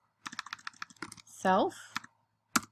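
Quick bursts of typing on a computer keyboard while coding in Python Tkinter, close clicky keystrokes in short runs, with a voice speaking briefly in the middle.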